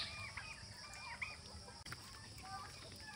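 Native hens, crossed with another breed, cluck softly in a farmyard among other poultry, with faint bird calls and steady background noise throughout.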